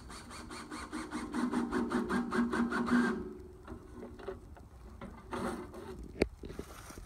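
A Klein screw-tip bit drills into a chunk of wood stuck inside a wood chipper, giving a loud rhythmic grinding whir for about three seconds, then quieter scraping and a sharp knock.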